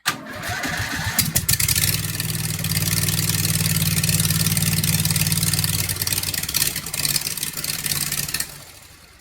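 A Poleman mud mower engine cranks, catches and runs on choke with a throaty steady idle, loud and close, then stumbles and cuts out near the end.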